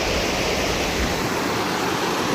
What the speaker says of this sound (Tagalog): ito yung ilog. Kaya lang medyo malakas na yung tubig